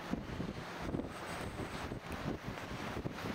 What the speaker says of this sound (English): Kind of a nice wind.